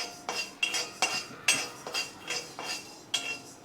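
Horse gram dry-frying in a heated pan, with a ladle scraping and clinking against the metal in a steady rhythm of roughly two strokes per second, close and moderately loud.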